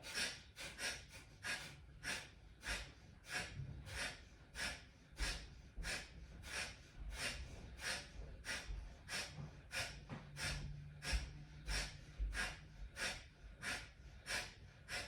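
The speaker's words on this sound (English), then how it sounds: "we're going to insert Kapalabhati. Sharp, sharp. Exhale, exhale, exhale." Kapalabhati breathing during a yoga flow: a steady train of sharp, forceful nasal exhales, about two per second, close and evenly rhythmic for the whole stretch with no talking.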